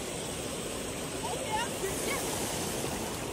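A small waterfall rushes on a hiking trail near Manchester, Tennessee, a steady close wash of falling water filling the whole clip with no talk over it.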